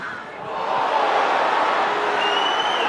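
Rugby league stadium crowd at a Widnes versus St Helens match swelling into a loud, sustained roar of protest over a high tackle, a broad wash of noise rising after a quieter start.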